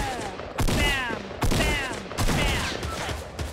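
Gunfire in the video game Fortnite, three sharp, loud reports spaced about a second apart, each with a ringing tail, with no talk over them.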